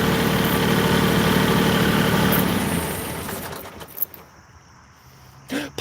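A tractor engine idles steadily with a low, continuous rumble for nearly three seconds, then cuts back to a quieter hum as faint clicks and rattles follow.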